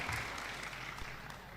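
A gathered crowd at an outdoor political rally in Probolinggo claps in a brief, dense burst of steady applause, fairly loud and close, with faint voices mixed in.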